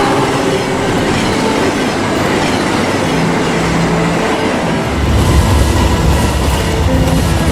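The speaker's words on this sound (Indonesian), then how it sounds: "kereta berangkat" A train departing rumbles and clatters loudly nearby, the rolling noise of wheels on rails growing heavier partway through.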